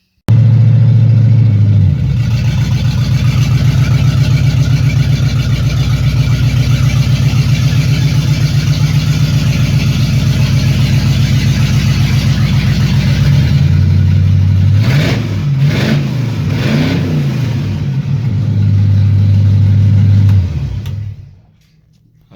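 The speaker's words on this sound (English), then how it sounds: "let's see if I can get this thing started and get her in here" A car engine with a new exhaust cranks and catches, then settles into a loud, steady idle with a deep rumble. A few revs rise and fall near the end before the engine shuts off and goes quiet.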